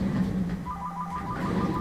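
A phone ringtone sounds, a mom calling, a faint repeating electronic melody of short beeping tones over quiet room noise, with no voices.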